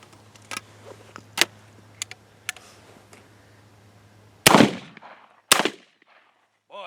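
A Cimarron double-barrel shotgun firing Remington green shells outdoors: a few light clicks and handling knocks, then two loud, sharp blasts about a second apart, each trailing off in a short echo.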